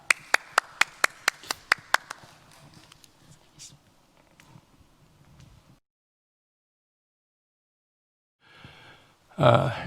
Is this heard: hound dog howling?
no